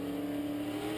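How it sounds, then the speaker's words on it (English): A V8 race car on a Grundy County dirt track drones steadily and faintly at a distance, its engine note held in a sustained tone for a brief moment. "these race cars, a lot of horsepower, American-made production, V8 engines only"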